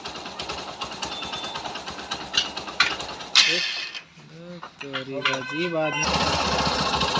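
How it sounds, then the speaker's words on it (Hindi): A Hero Passion Pro BS6 motorcycle engine, freshly rebuilt, runs close by with a rapid mechanical chatter and revs, dropping away briefly while someone talks over it, then returning strongly. "इतना सारा इनके पार्ट लगने के बाद इंजन की आप आवाज़ सुन सकते हैं।"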